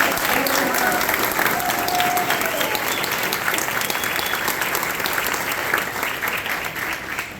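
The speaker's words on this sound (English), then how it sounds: "Can we give our students another round of applause" A large audience at a National Junior Honor Society induction ceremony applauds the new student members, a dense, steady roar of many hands clapping that stays loud throughout and eases slightly toward the end.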